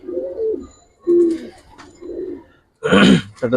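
Giribaj and coloring pigeons coo up close in a series of soft, throaty phrases, four or five separate bursts with short gaps, the last one louder and rougher.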